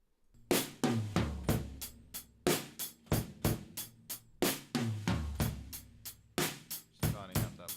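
A drum kit played live and captured by room microphones with a heavy mid scoop. Punchy kick and snare hits fall in a steady groove with roomy, ringing decay between them, fairly quiet overall and without talk.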